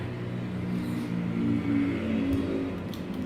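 Vintage racing motorcycles drone steadily on a track at Barber Motorsports Park during an AHRMA race. Their engines form a continuous, moderately distant whir that swells slightly as they pass, and no voices are heard.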